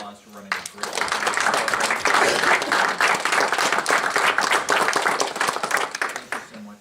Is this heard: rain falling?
no